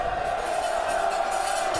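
A high school football crowd at Enumclaw vs. White River cheering in a steady, dense roar from the stands throughout, with a commentator's voice over it.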